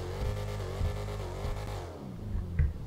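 Modern-sounding car engine revving in GTA Online at night, a sustained close, loud drone with shifting pitch that winds down near the end, followed by a brief knock.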